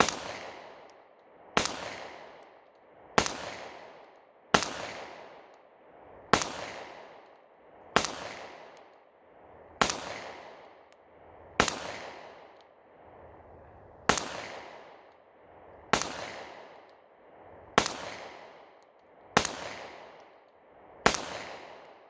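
A Smith & Wesson Equalizer pistol firing from a 15-round magazine: thirteen loud, sharp shots spaced evenly about every one and a half to two seconds, each followed by a short echoing decay, with no talking.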